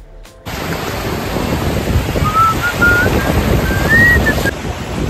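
Sea waves washing onto the beach at Alibag, a loud steady surf roar with wind buffeting the microphone and a faint whistling tone in the middle.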